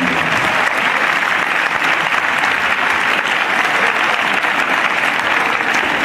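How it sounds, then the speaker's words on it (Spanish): A large crowd applauds steadily and loudly at a tribute ceremony, sustained clapping with no pause throughout. "Pido un gran aplauso para nuestro comandante, don Luis Alberto Calderón."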